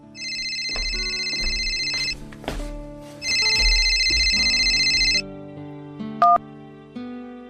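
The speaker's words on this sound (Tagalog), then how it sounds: "Ay, teka, tumatawag si Iya. Sagutin ko lang to" A phone rings with an incoming call: a loud electronic ringtone repeats in two long melodic bursts, then a short chime, with no talking over it.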